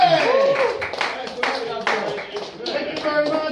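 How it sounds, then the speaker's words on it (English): Audience at a stand-up comedy club clapping for a participant, a brief round of applause mixed with a host's voice speaking over it. "An applause for Abdul,"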